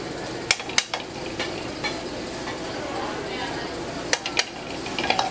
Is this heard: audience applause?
no